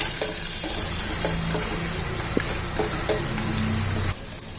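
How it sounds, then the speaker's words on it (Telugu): Tomatoes sizzle and fry in a pan for a macaroni pasta dish, a steady close crackle with occasional stirring scrapes, no voices. "అలాగే టొమాటోస్, వేసుకొని ఫ్రై చేసుకోవాలి."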